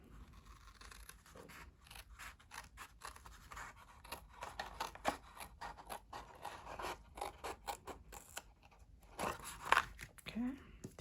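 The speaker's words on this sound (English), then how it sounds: "I'm going to cut down this side." Scissors snip through decorative Stampin' Up! designer paper for a hexagonal twist card in a quick series of crisp, close cuts with short pauses, a few rustles of paper between them.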